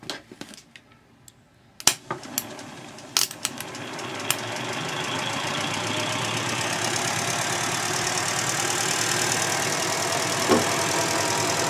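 A few sharp clicks, then an engine connected to a Saturn transmission in reverse spins up and runs steadily, a droning whir with faint knocking that grows louder and holds.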